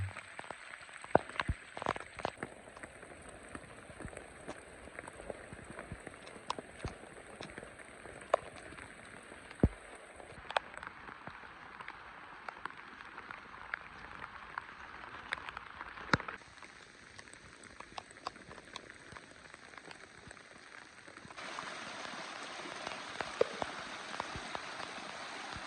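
Rain falling in Lembah Ramma, South Sulawesi, a soft continuous patter with scattered sharper drips and taps, faint and steady across the whole stretch with no talk.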